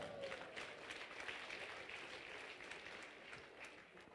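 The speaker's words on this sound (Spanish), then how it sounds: "A su nombre, dale palmas a Cristo." A congregation claps during a Quechua-language church sermon in Huanta, Ayacucho, with a steady wash of many hands clapping together that sounds faint and distant throughout.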